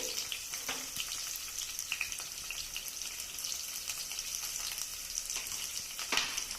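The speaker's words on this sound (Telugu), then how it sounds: "వీటిని కొంచెం దోరగా వేగనిద్దాము" Thinly sliced onions and green chilies frying in oil for a potato masala curry, a soft continuous sizzle broken by occasional faint scrapes and stirring taps.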